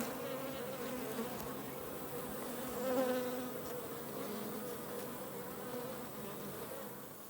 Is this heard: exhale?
no